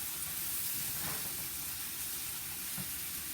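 Scallops searing in hot olive oil in a pan, a steady close sizzle and hiss with faint clinks of tongs, no talking.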